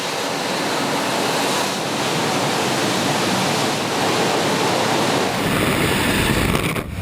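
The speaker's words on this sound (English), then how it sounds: "The water shoots out of every opening in the silo." High-pressure water jets blast inside an industrial silo during plant cleaning, a dense, steady roar of spray gushing from every opening, loud and continuous with no voices.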